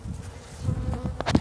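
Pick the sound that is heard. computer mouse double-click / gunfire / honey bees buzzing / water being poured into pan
honey bees buzzing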